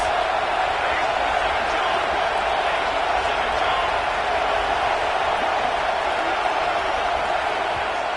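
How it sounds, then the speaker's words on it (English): Steady, dense roar of a stadium crowd at a Navy vs Michigan college football game, a continuous wash of massed voices and cheering with no distinct breaks, loud and sustained throughout. "This crowd trying to make life miserable for this offense."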